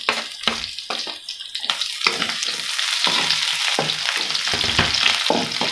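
Red chilies stir-fried in a hot pan for a yellow noodle dish, a steady loud sizzle with repeated scraping strokes of the stirring utensil throughout.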